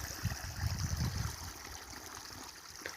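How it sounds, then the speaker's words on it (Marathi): Water rushes and gurgles steadily, like a flowing channel close by, with a low churning splash at first and a continuous hiss throughout. "इथे पाणी चालू आहे पाणी दिसत असणार तुम्हाला"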